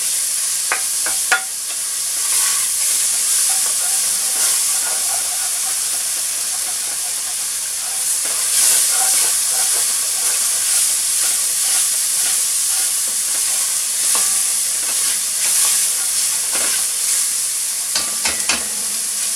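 Mushrooms frying in a pan, a steady close sizzle and hiss with scattered crackles and occasional utensil clicks running throughout, no talk.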